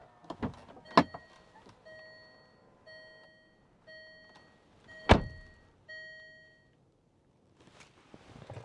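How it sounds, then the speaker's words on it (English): Power folding door mirrors on a 2014 Range Rover Evoque 2.2 SD4 Dynamic whir briefly, with clicks and thunks around a run of evenly spaced electronic chimes, quiet and close with no speech. "so power folding door mirrors"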